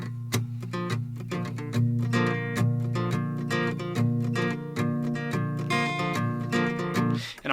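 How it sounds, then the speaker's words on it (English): An acoustic guitar plays a hymn verse with palm-muted strumming on the first four strings, so the strings still ring a little. The strums are close and even, with steady rhythmic chord changes throughout and no voice. "in the verse, what I'm going to do is I'm just going to palm mute"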